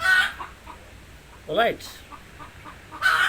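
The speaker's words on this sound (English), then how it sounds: "here you can hear this is some hen" A hen clucks in a short burst mid-clip, with brief bird calls at the start and end and a person speaking briefly, in an outdoor setting during a Mother Goddess worship.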